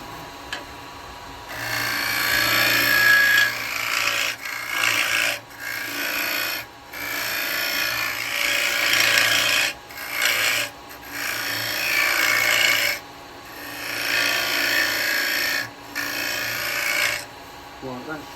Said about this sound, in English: Yeah, this needs sharpening.